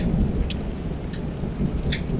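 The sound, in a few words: heavy thunderstorm with rain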